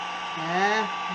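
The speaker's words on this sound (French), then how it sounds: "Petit fusil à air chaud." A small hot air gun blows steadily while drying thin paper, a close, whirring hum that rises slightly in pitch partway through the brief burst.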